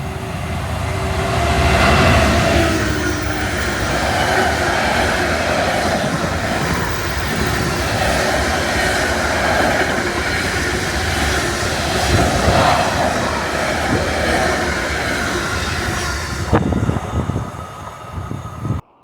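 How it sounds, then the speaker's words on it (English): A freight train rumbles through a small railway station on the Mid Cheshire Line in England. The wagons pass loud and close with a steady, continuous roar for about sixteen seconds, then the sound thins out abruptly as the last of the train goes by. "you get plenty of freight trains passing through these railway stations"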